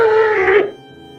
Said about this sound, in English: When they find the player, they would make a sort of startled noise.